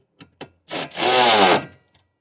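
A bolt being tightened on a rear floor platform in a Suzuki Jimny XL JB74: two short ratchety clicks followed by a longer, louder grinding rasp of metal turning, close up and alone.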